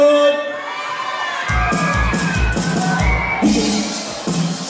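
A crowd of girls shrieks loudly in high-pitched, overlapping screams, with rhythmic thumping underneath.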